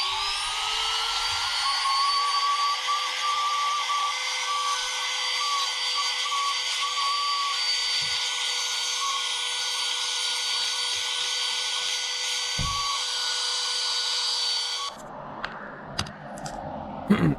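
A cleaner blows a high, steady whine into the dusty heat sink of an old computer outdoors for about fifteen seconds, then cuts off into a few scattered handling clicks and bumps.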